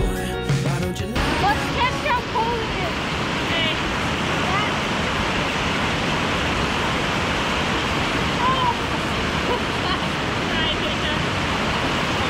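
Meltwater streaming straight off a mountainside beside a hiking trail in Jasper National Park, a loud continuous rushing wash that fills the whole clip, with a brief rustle near the start.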